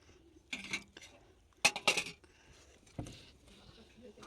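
Curry and gravy spooned onto a plate, a few faint clinks and scrapes of a serving spoon against the dish in short, spaced bursts in a quiet room.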